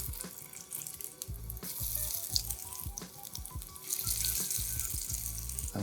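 Tuna meatballs frying three at a time in a little oil in a pan, a steady sizzling crackle with repeated low bumps and clinks from handling, close and moderately loud throughout, no talking.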